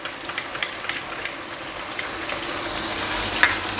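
Chicken Manchurian sizzling and frying in a pan with chilli garlic sauce, ketchup and chilli sauce, a steady close sizzle with a few sharp spatula stirs and pops early on.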